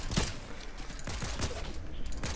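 Machine pistol fire in the Fortnite video game rattles out in several short, rapid bursts over a steady game-noise background, close and fairly loud.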